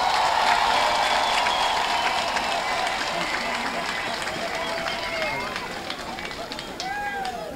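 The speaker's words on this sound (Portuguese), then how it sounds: "Uma salva de palmas para eles." An audience at a 2019 mayoral swearing-in ceremony in Quelimane, Mozambique, gives steady, moderately loud applause mixed with crowd murmur, fading slightly toward the end.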